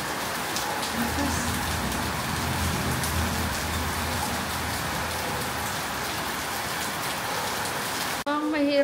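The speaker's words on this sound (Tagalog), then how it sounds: "Hala, lumakas yung ulan, guys. Ayan, oh, ang lakas ng ulan." Heavy rain pours down steadily and loudly throughout, a dense continuous hiss with faint passing traffic underneath, cut off abruptly near the end by a brief different sound.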